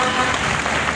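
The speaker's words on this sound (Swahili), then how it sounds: "wapigieni makofi" Applause at a memorial gathering for Betty Bayo: a dense, steady clatter of many hands clapping together, loud and sustained through the whole second without a break.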